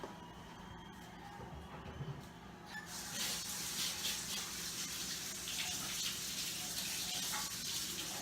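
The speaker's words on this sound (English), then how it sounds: "Wash my hands again." A kitchen tap runs steadily with a broad hiss, water splashing as hands are washed during chili making; the flow starts a few seconds in and continues close and loud to the end.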